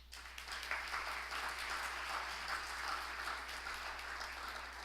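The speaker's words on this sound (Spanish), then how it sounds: "Recibamos con un fuerte aplauso" A forum audience applauds to welcome an industry association president to the stage, a broad wash of clapping that swells quickly and stays steady, slightly softer toward the end.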